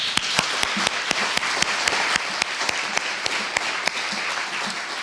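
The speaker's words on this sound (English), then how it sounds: "I just want to have one more round of applause for our fellows." Audience applause at a fall kick-off event honouring fellows, a steady crowd clapping with a few sharper individual claps standing out rhythmically, moderately loud and continuous.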